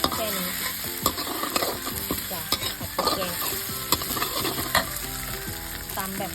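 Dried fish stir-fries in a hot pan with curry paste of dried chilies, shallots, garlic and fingerroot. The sizzle is loud and constant, and a spatula scrapes and clacks in a busy rhythm, up close.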